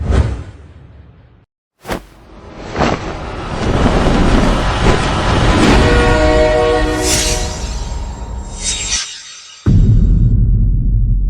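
A steam train roars past loudly with a rushing whoosh and a long, bright horn blast, the rumble swelling and fading before an abrupt cut.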